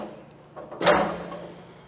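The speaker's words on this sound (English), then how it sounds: "So this step just folds right into the door frame," A solid entry step on a 2021 Grand Design Imagine 2910BH travel trailer folds into the door frame with one short, close clunk followed by a fading rattle, no speech.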